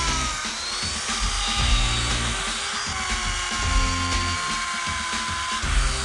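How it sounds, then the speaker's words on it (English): A Dremel rotary tool with a burr bit carves into ice, giving a steady high-pitched whirring grind that runs continuously and close for several seconds, with no voices. "This is attached to a Dremel, and what this does, it's kind of like the modern-day ice sculptor uses this as a chisel."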